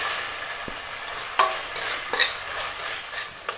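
Onions and tomatoes fry in an oiled pan for chicken biriyani under a constant soft sizzle, broken by three or four sharp spoon scrapes as the mixture is stirred.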